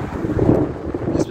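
Strong wind roars into the microphone during a thunderstorm, a loud steady rumbling rush without a break.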